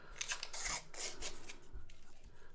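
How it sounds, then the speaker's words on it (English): Paper coin roll wrapper from a roll of half dollars ripping open, a series of close, crisp tearing and crinkling bursts that come in quick uneven spurts. "This paper is ripping terribly."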